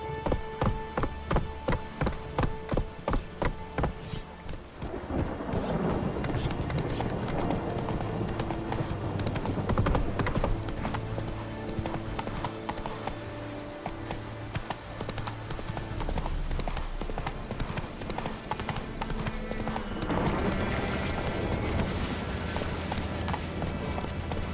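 Hooves of Roach, a horse in the Witcher 3 on PS5, clip-clop in a quick, even rhythm at first, then fade under a dense, loud wash of game sound and music for the rest of the stretch.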